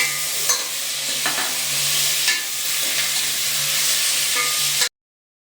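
Vegetables added to fried onion in a pan for a village-style chickpea masala curry give a close, steady sizzle with occasional stirring scrapes, then cut off abruptly near the end.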